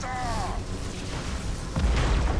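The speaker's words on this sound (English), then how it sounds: "Warp cannon finally activating" A warp cannon fires during a space battle in Battlefleet Gothic Armada 2, coming in as a deep booming blast at the end of the clip after a stretch of rumbling ambient battle noise and a brief tonal warble.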